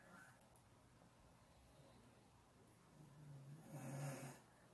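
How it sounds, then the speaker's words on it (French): A small pet snores softly and close by, a quiet, faint rasping with one louder snort-like breath near the end against a near-silent room. "ce qu'on est en train d'entendre, c'est les ronflements de ma petite poupoune"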